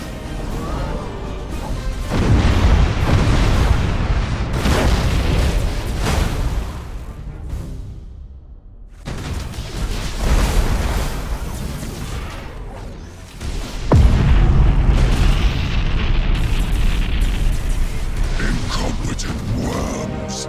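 Warship guns fire in Battlefleet Gothic Armada 2, a space naval strategy game: heavy booming salvos and crashing impacts roll through in loud bursts, with a brief lull midway and then a powerful renewed barrage.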